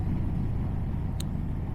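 Engine of a BMW R1200RS motorcycle running steadily at close range with a low, even rumble while shifting gears, with one brief sharp click partway through.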